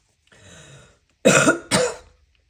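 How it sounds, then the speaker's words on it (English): A person coughs twice in quick succession, close and loud, after a softer breathy throat sound. "me coughing a lot right now"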